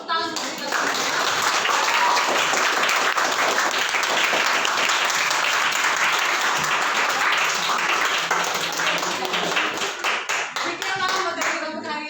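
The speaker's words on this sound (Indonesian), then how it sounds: "Tepuk tangan untuk kita semua." A class of students claps together, loud and close, a dense burst of many hands that holds steady for several seconds before thinning out into a few scattered claps at the end.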